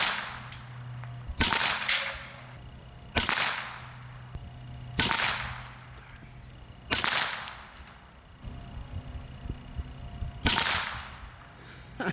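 Six sharp, cracking shots from a Huben GK1 semi-auto PCP air pistol firing pellets, spaced a second or two apart, each with a brief ringing decay, loud and close with no talking.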